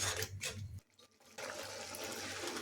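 A little water is poured into a pan of spiced sprouted moong, giving a close splashing pour, a short quiet gap, then a steady bubbling hiss as it hits the hot pan.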